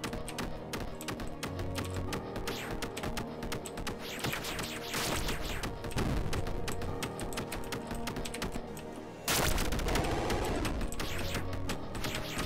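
Rapid, dense ticking of an archer's shots in the Dungeon Souls video game, a steady fast clatter that runs the whole time, with a sharp burst near the end, and a game music bed underneath.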